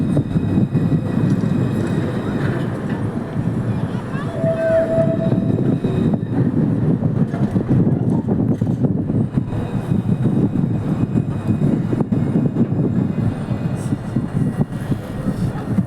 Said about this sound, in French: Et voilà, et l'autre rame arrive à son terminus.